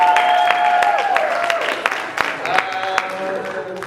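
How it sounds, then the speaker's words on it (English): Scattered audience applause rings out at a high school student awards show, with sharp individual claps standing out over a thinner crowd, fading somewhat while voices and cheers mix in. "So give yourself a round of applause"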